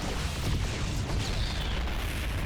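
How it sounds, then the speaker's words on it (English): A building explodes in StarCraft 2, a dense, sustained blast of rumbling, crackling noise filling the whole stretch with no talk. "I like building explosion animations."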